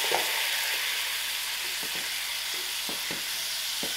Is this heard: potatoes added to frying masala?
yes